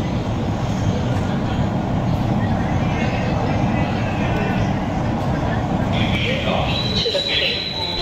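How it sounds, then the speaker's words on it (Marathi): Mumbai metro train running, a heavy continuous rumble and whine heard from inside the moving car, with people talking over it. "आता ट्रेन चालू झालेली आहे।"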